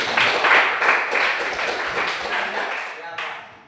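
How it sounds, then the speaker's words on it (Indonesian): Classroom of students clapping hands together, a fairly close burst of many hands with audible individual slaps early on that thins and fades toward the end. "Tepuk tangan dulu."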